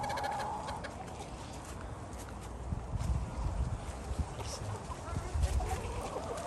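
Backyard chickens cluck and murmur faintly in the background, mixed with outdoor ambience and scattered rustling.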